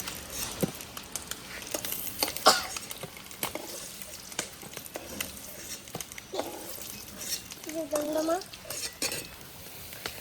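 Fried eggs are lifted one at a time from oil in a kadai: continuous sizzling under repeated scraping and metallic clinks of a utensil against the pan, with scattered knocks.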